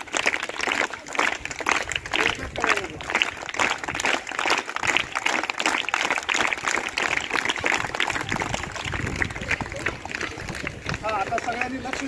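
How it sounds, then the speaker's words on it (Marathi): Students clap together at a school morning assembly, a busy, continuous patter of many hands that runs throughout while voices carry on over it. "त्या विद्यार्थ्यांचं एकदा जोरदार टाळ्या वाजवून स्वागत करूया आपण।"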